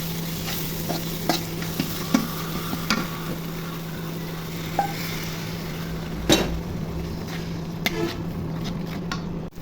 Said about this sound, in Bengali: এখন পানি দিয়ে কষে নিব